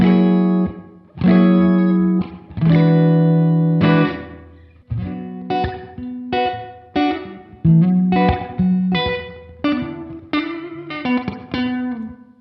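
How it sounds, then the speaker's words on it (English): Electric guitar through a Keeley DDR drive, delay and reverb pedal with the reverb mix set fully wet, playing a series of chords and notes that swell and ring out into a thick, washy tail, loud and alone. "So if you put it full, then you've got all the reverb in"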